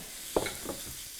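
Lean ground turkey browning in olive oil in a skillet, a short burst of sizzling as the meat is stirred, close and moderately loud with no talking.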